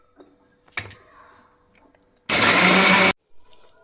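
A kitchen mixer grinder whirs in one short, loud burst while grinding moong dal dosa batter with dried red chillies, egg, asafoetida and salt, preceded by light clinks and handling noises.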